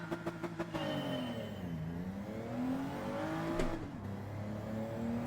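A car engine in Gran Turismo 7 revs hard at the start line, a few sharp blips and then a sustained high rev that rises and falls as the car launches, loud and close with no talk.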